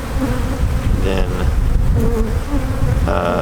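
Honeybees in an open beehive during a winter check of a strong colony, a loud, dense, continuous buzzing swarm drone close by, with brief clicks and knocks of frames being handled.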